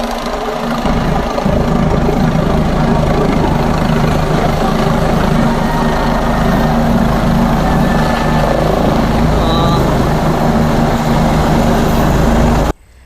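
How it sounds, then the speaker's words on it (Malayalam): Rahul Gandhi's helicopter landing at the Ripon Thalakkal ground, a loud, close, continuous rotor and engine roar with a rhythmic throb that cuts off abruptly at the end. "റിപ്പൺ തലയ്ക്കൽ ഗ്രൗണ്ടിലാണ് രാഹുൽ ഹെലികോപ്റ്റർ ഇറങ്ങിയത്"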